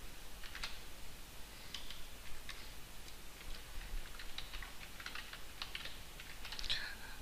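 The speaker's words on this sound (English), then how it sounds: "So let's type in the username." Soft computer keyboard keystrokes tap out a username in an irregular, quiet patter of close clicks against a faint background hiss.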